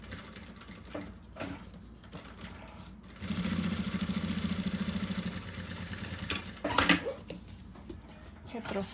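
A sewing machine stitches a necessaire, running in a steady rapid burst with a short reverse at the start and end, while someone talks over and around the mechanical whirring.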